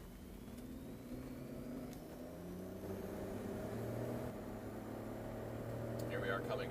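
BMW X5 SUV at high speed on a road test crossing a bridge, steady engine and road drone building slightly louder toward the end, with a person talking over it.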